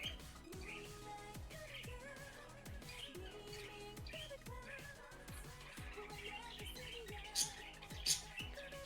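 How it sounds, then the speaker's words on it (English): Bird chirps repeat rhythmically over faint background sound, with a few sharp high-pitched notes standing out near the end. "The bird sounds like a cicada."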